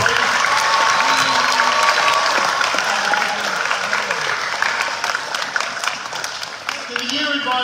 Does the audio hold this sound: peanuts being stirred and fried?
no